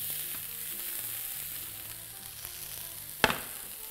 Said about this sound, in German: Dafür wird nochmal der restliche Brokkoli richtig ordentlich scharf in der Pfanne geröstet.